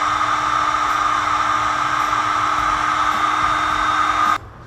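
Heat gun shrinking heat shrink tubing on the wiring of a Honda CB350 motorcycle build, a steady loud whooshing blower hiss with a faint hum, switching off abruptly just before the end.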